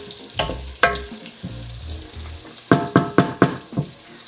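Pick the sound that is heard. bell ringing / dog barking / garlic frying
garlic frying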